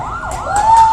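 An ambulance siren wails loud and close in a Tamil political street speech setting, its pitch sweeping up and down and then holding steady, with no talk over it.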